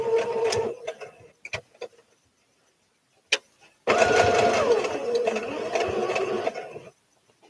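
A home sewing machine stitches a crochet applique onto a Simplicity S8855 garment, with a few short whirring bursts and clicks at first, then a long, steady run of stitching before it stops.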